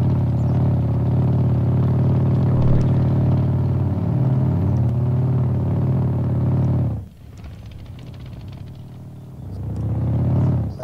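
Car engine in Arma 3 rumbling steadily while driving, a loud droning hum that drops away abruptly near the end before building back up again.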